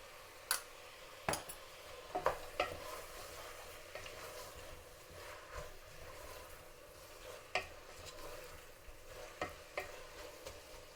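Stirring and sautéing tomato rice with green chillies and ghee in a pan, with a soft continuous sizzle broken by intermittent sharp ticks and scrapes of the spoon against the pan.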